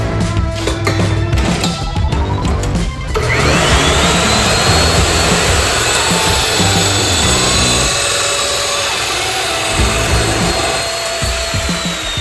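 A power tool cuts a 3-inch steel extension piece for the bottom of a chain link gate, a loud, continuous grinding whine with a harsh start that holds steady, close and unbroken, with no talk.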